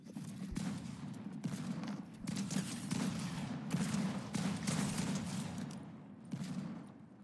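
Rapid bursts of video game gunfire in Fortnite Creative, a dense, loud volley of shots repeating steadily with thuds mixed in, running almost without pause.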